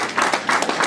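Audience applause at a political rally for a diaspora party's youth, a brief burst of dense clapping in uneven pulses that is loud and close.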